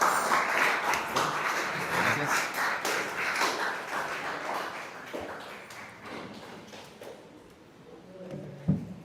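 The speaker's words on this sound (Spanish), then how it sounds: "Denle un aplauso a nuestro Señor Jesucristo por la vida de Yona" Church congregation claps in a round of applause, loud at first with scattered distinct claps, then thinning and fading toward the end with a sharp knock near the close.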